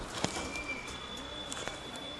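Breeding pair of highflying pigeons cooing softly in a coop, low repeated coos at moderate distance over a steady background hum, with no voices.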